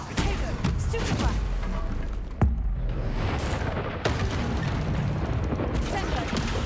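Confringo explosion spells cast in Hogwarts Legacy, a dense run of booming blasts and crackling bursts with one sharp louder hit midway, under a player's continuous talk.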